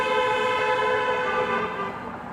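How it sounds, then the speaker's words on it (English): A horn sounds in one sustained, tonal blast on a Toronto street, fairly loud and close, fading slightly at the end over light street ambience. "Some horn honking action."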